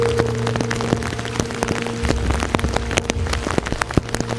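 Heavy rain pours outdoors on an early-season fishing trip, a dense steady patter with many sharp close drops striking a nearby surface, loud and continuous over a low hum.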